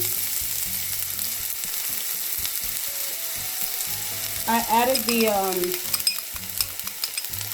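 Diced onion hits hot lard in a pan and sizzles steadily, with brief clatter of stirring partway through and a constant crackling fry throughout, no talking.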